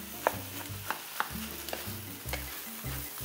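Fried rice cooking in a non-stick pan, a soft steady sizzle punctuated by repeated scraping and tapping of a utensil against the pan in an uneven rhythm, close and fairly quiet.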